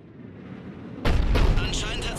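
Loud heavy cannon blast from the Cerberus cannon in Mass Effect 3, erupting abruptly after a low rumbling ambience and followed by sustained crackling, booming reverberation.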